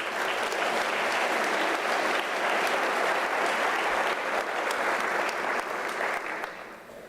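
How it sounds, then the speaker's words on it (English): Audience applause at a UNISA autumn university graduation ceremony, a loud, dense and even roar of clapping from a large hall that holds for about six seconds before tapering off. "let's give them the round of applause"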